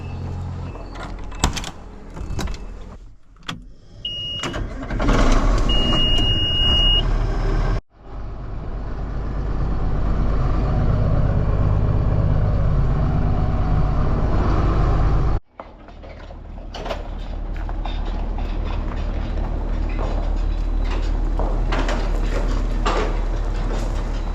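A John Deere 4650 tractor engine runs loud and steady on a farm, with clunks and a brief whine early on, then a sustained low rumble as the tractor moves, cut by two short breaks.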